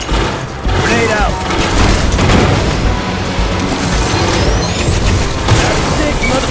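Grenade blast amid heavy combat in the co-op shooter Aliens: Fireteam Elite: a loud, dense roar of booms and crashing debris runs nearly the whole time, layered with gunfire and mechanical clatter.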